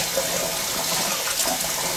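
Warm water running steadily from a tap to fill plastic bags, a close, continuous rushing splash with no break and no talk over it.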